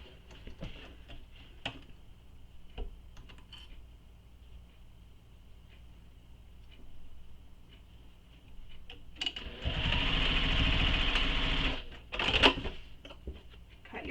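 A sewing machine stitches a tote bag closure in one steady run of about two seconds, preceded by faint ticking and handling noises at low level.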